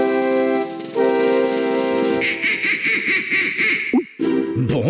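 In a Pocoyo cartoon, the duck character quacks in response to a whistle: a long, bright honking tone breaks into a series of rapid, nasal quacks, then a few warbling calls, loud and close.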